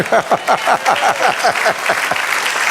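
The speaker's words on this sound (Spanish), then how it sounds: "De un aplauso al Señor." Church congregation applauds during a sermon, loud rhythmic clapping with distinct individual beats close by, the pulse loosening toward the end.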